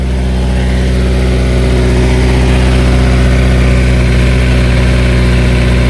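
A Honda S2000 sports car engine rumbles loudly at idle through the exhaust, deep and constant, heard up close.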